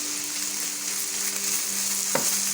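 Minced chicken for samosa filling fries in a pan, with a constant close sizzle and a single short clink of a utensil near the end.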